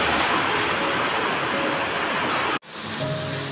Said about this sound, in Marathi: बाहेर पाऊस काय आहे बघा, काळोखी झाली